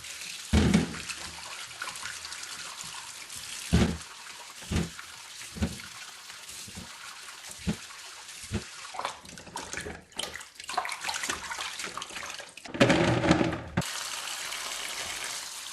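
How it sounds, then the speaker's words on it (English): Tomatoes being washed in plenty of water: water splashes and sloshes in a basin in intermittent bursts, with quiet handling noises between the louder pours. "We start by washing the tomatoes in plenty of water"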